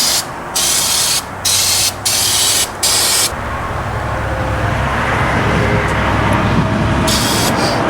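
Short bursts of aerosol lubricant spray hiss, then a long continuous spray, close and loud over a low rumbling background, sprayed on a 1979 AMC AMX that had been sitting for years.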